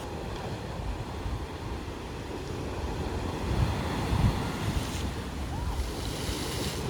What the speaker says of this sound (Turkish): Şu dalgayı çeker misin